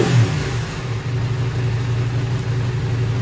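A 2019 KTM 790 Adventure S motorcycle engine holds a loud, steady, close rumble after a quick rise in revs at the start.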